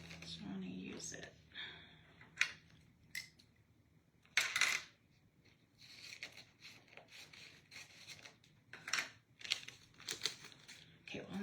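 Washi tape being peeled, torn and pressed down for a card layout: a run of crinkly rubbing, short tearing rips and soft scuffs at close range, starting and stopping irregularly, with a little talk over it.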